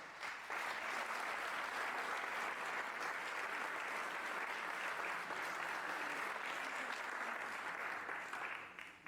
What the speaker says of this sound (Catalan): Rebem, doncs, una fort aplaudiment de la nostra convidada d'avui, Tate Cabré Massaguer.